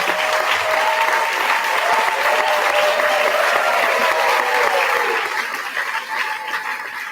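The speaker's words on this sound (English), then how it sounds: "can you give them a big round of applause to acknowledge them?" Sustained, loud audience applause at a San Francisco Democratic party committee meeting as members stand to be acknowledged, dense clapping that holds steady and then thins slightly near the end.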